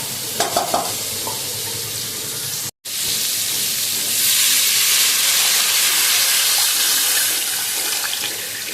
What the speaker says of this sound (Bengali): এবার জল দিয়ে দেবো মশলাটা আমার কষে গেছে